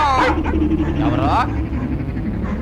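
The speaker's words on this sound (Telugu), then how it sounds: "అటు టెలిఫోన్ ఇటు కుక్కలు ఒకదానికోటి పోటీ పడి అరుస్తున్నాయి" Dogs barking and yelping close by, a couple of sharp barks followed by whimpering, with someone shouting over them and a telephone also ringing.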